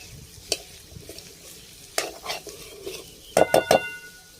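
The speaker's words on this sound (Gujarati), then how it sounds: "હળદર, હિંગ। હવે આને બધું વ્યવસ્થિત આપણે મિક્સ કરી લેશું।" Cauliflower curry with turmeric and asafoetida being stirred in a pan, with scattered scrapes and clinks of a utensil over a soft sizzle, ending in a quick run of three sharp metallic knocks.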